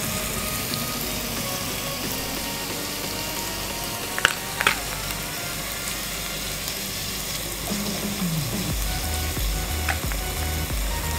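Onions with curry leaves and salt sauté in a pan for Idukki-style tapioca biriyani, giving a steady low sizzle throughout with a couple of brief metallic clinks of a spoon against the pan.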